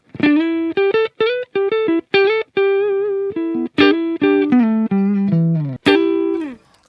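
An electric guitar plays through a tube amp on the clean channel, a series of clear, bright plucked notes and short phrases, each ringing briefly, played alone and up close.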